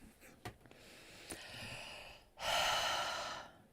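Heavy breathing close to the microphone: a couple of short sharp sniffs or gasps, then a long loud exhale that fades out.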